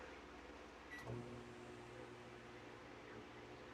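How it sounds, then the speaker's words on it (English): A microwave oven runs inside a camper, giving a faint, steady hum and fan whir; a brief beep and click sound near the start before the even drone carries on alone. "Now we're going to turn on the microwave."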